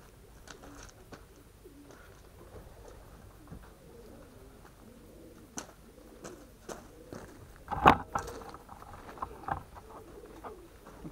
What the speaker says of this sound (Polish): Tu są cztery gołębie.